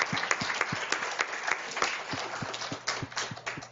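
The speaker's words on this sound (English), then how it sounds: "Can we please give our panelists a round of applause?" An audience at a panel discussion claps for the panelists, a dense, fairly close round of applause with distinct individual claps standing out throughout.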